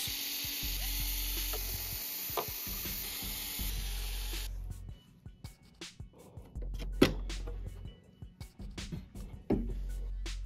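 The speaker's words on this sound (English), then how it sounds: "First, we will remove the AC board by removing 6 screws." Six screws being taken out of the AC board of a JBL PartyBox 710 speaker, first a whirring electric screwdriver run in bursts, then sparse small clicks and metallic ticks of parts being handled, close and quiet.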